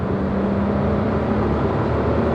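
Suzuki Swift Boosterjet hot hatch engine droning steadily from inside the car, a loud continuous hum with a constant low tone and no clear rev change.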